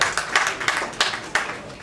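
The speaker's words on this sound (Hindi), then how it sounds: "इरफान, आप तालियां बजा सकते हैं" Scattered hand claps from a listener at a mushaira, an Urdu poetry gathering, a handful of separate claps spaced unevenly, fairly close and clear, with no talk over them.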